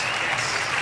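Piped-in studio audience applause on a television talk show, a brief dense burst of clapping at steady loudness with no voices over it.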